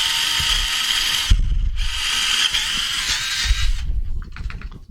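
A power drill whines loudly in two long bursts with a brief pause between, then winds down, with low rumbling knocks underneath.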